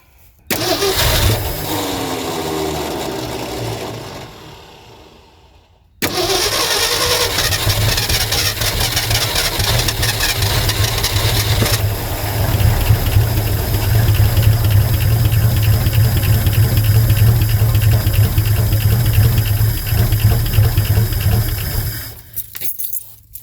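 A one-owner 1972 Ford F350 with a big block engine and four-speed cranks, fires up, stalls briefly, then restarts and settles into a loud, rough, steady idle that revs up partway through.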